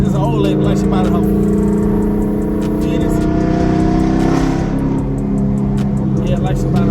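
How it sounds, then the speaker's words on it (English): A Ford Mustang GT engine drones loud and steady nearby, a continuous throaty rumble that swells slightly, with people talking over it. "Well, she like the sound of the car."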